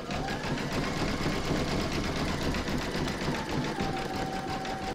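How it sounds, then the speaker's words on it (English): An embroidery machine runs a zigzag stitch around the edge of an in-the-hoop hedgehog appliqué, giving a steady, continuous mechanical whirr with a fast repetitive chatter. It plays close and alone with no talking. "I'm now going to pop this back in my machine and stitch round number 5, and that's going to zigzag along this edge"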